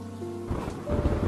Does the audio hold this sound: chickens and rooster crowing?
no